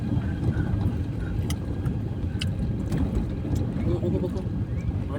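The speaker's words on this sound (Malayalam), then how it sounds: "അപ്പം ഞങ്ങൾ അങ്ങോട്ടേക്ക് വണ്ടി ഇറക്കുകയാണ്." A vehicle engine hums steadily as it drives down toward the Ganga river bank at Farakka, West Bengal, a close continuous motor drone under ongoing talk.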